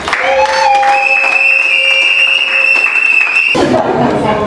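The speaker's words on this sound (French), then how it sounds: "Applaudissez pour Charles" Guests at a civil wedding applaud the groom, a dense, steady burst of clapping from a close crowd that holds for about three seconds before breaking off, with a few voices heard around it.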